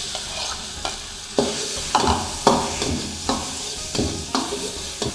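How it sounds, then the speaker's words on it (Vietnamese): Meat tossed in a hot pan with sautéed shallots and garlic for hủ tiếu, sizzling and frying under repeated close stirring strokes that scrape and clatter every second or so, no talking. "Rồi xào lên cho nó vừa chín thịt ha"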